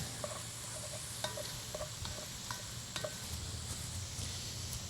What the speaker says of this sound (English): I'm gonna give this a little stir real quick.